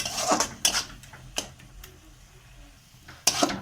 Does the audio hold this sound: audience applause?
no